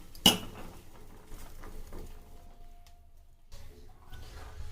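A metal vessel and a slotted skimmer are handled in a kitchen while boiled peanuts are being drained for salted peanuts. One sharp metallic clink comes first, then softer scattered clatters and light rattling at close range.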